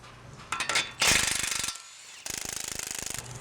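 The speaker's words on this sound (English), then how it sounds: "so you can just put an impact on them, take them out real quick" An impact wrench on 21 mm sockets removes the tie rod and sway bar bolts on a 2021 Ford Bronco. It fires in two loud bursts of rapid hammering, with a short quiet gap between them.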